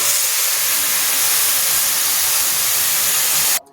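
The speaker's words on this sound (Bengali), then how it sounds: "এখন আমি ফুটন্ত গরম পানি যেটা করে রেখেছিলাম সেটা দিয়ে দিব।" Boiling water hits fried rice in a hot pan for biryani, releasing a loud, steady rush of hissing steam that holds unbroken before cutting off abruptly at the end.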